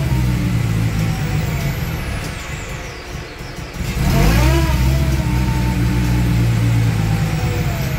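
An electric vehicle's drivetrain spins up with the clutch out, a loud steady whirring and droning that dips briefly midway, then surges back with a rising whine.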